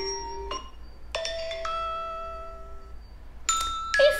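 A soft, chime-like alarm melody plays a few sustained electronic notes with gaps, ending in brighter higher tones, heard alone.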